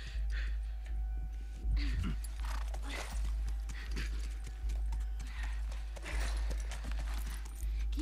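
A horse's hooves beat against the ground in the video game The Last of Us Remastered, producing a steady, rhythmic clip-clop throughout.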